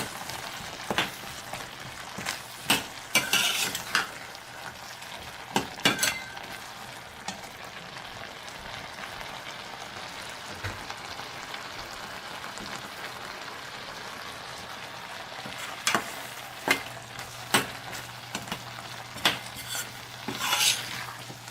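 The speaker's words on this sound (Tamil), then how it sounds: "இது வந்து நல்லா கொதிச்சு வந்துட்டு இருக்குது." Green lima beans sizzle softly in a pan while a spoon scrapes and clinks against the metal in scattered bursts, close and fairly quiet, with a steady low frying hiss underneath.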